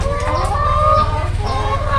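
Layer hens clucking steadily in a coop at a school, a close, continuous chorus of overlapping clucks and calls with no talking.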